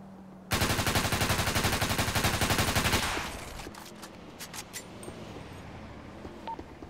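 Rapid automatic gunfire in a GTA roleplay shootout rattles loud and close for a few seconds, then gives way to scattered distant shots and quieter background noise.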